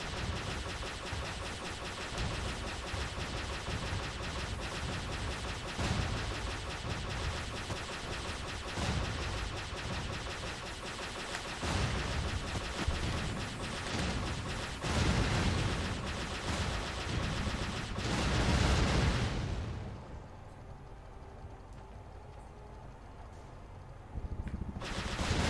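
Sustained, dense gunfire from shooting in the video game Jade Empire, continuous and loud for a long stretch before dropping to quieter background noise near the end.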